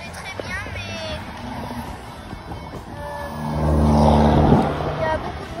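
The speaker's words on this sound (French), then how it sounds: "il y a beaucoup de voitures" Traffic rumbles past on a street in Montauban, France, with one car growing louder as it passes close by, then fading; a voice talks over it.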